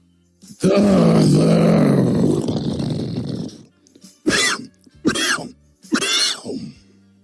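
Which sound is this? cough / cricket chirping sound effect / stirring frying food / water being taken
cough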